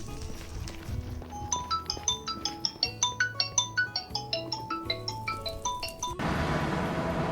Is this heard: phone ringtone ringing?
yes